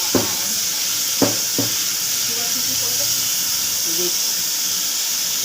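Whole cumin seeds sizzle steadily in hot oil, a broad hiss with a few sharp spatters near the start and scattered crackles throughout.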